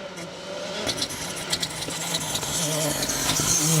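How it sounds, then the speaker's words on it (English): A Ford Fiesta Rally 2 car on a special stage of the Malcolm Wilson Rally accelerates with a rising engine note, and sharp revs and gear changes pop through the rush. "'16 MRF Tyres BTRDA Rally champions Charlie Payne, Carl Williamson in their Fiesta Rally 2."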